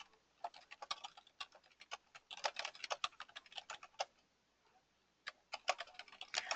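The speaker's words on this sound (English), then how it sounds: "So I'm typing the message one time," Someone typing a message on a computer keyboard, with quick irregular runs of soft key clicks and short pauses between bursts, heard close and fairly quiet with no talk.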